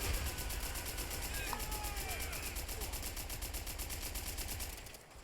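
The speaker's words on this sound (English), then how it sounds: "I feel like maybe this MG is a bad idea" Mounted MG machine gun firing in Call of Duty: World at War, a steady dense burst of gunfire running continuously for several seconds with battle noise, a faint voice and a sharp whistle-like sweep partway through.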